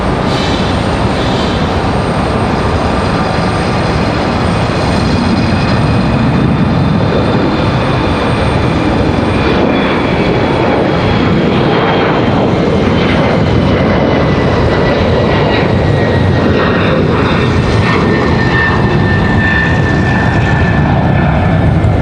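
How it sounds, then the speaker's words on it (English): Embraer E175 jet at Raleigh-Durham International Airport, its engines a loud, steady roar with a rising whine, continuous and close for the whole stretch, with no talking over it. "but the E175 is making too much noise."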